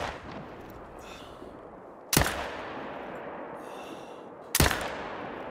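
Two loud, sharp rifle shots from a Zarza rifle in the hunting video game theHunter: Call of the Wild, a few seconds apart, each with a rolling echo decaying over quiet outdoor ambience.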